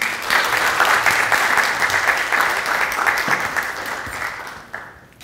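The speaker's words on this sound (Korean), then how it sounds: "여러분 박수 부탁드립니다" An audience at a Korean political forum applauds a congressman's introduction, with sustained, fairly loud clapping from a hall crowd that thins and fades near the end.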